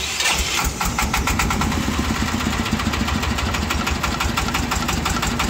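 A Vietnamese công nông farm tractor-truck's diesel engine starts and runs loud and steady with a rapid knocking pulse, a chugging idle that fills the whole clip, no talking.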